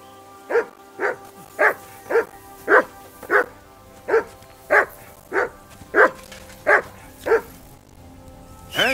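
In the video game Kingdom Come Deliverance II, a dog barks about a dozen times in an even, insistent rhythm, each bark loud and close, with short pauses between and no talking over it.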